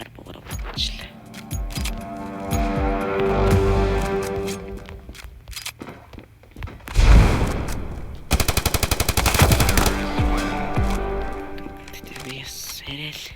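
Gunfire in a one-on-one shooting video game, with rapid automatic bursts and single pistol shots cracking close and loud over busy game sounds while players talk excitedly.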